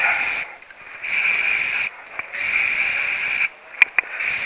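Short bursts of aerosol parts cleaner hiss out in three separate blasts, removing dielectric grease from a blinker switch, with brief pauses and faint clicks between them.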